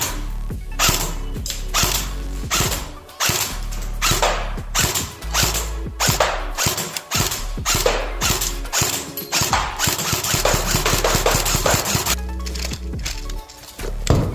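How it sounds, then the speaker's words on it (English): A JG RPK airsoft light machine gun fires on semi-automatic, a long run of sharp single mechanical clacks coming close together, each shot distinct and loud, with no talking. "So firstly, I'll give the light machine gun a go on semi-automatic."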